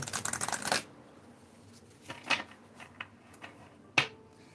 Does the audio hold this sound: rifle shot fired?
no